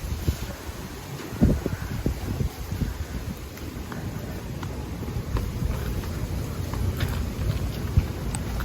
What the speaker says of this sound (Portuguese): Ainda tá uma ventania, mas nada se compara com a ventania de ontem.